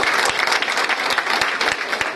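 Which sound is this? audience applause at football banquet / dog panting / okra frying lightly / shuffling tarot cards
audience applause at football banquet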